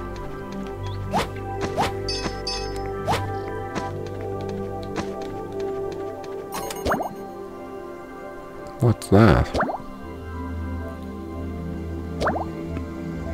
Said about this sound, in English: It's bubbles.